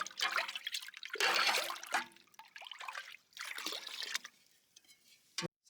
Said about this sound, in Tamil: ரெடி பண்ண எசன்ஸை வந்து இப்போ ஊற்றிக்கலாம். நல்லா பாலோட மிக்ஸ் பண்ணிக்கலாம்.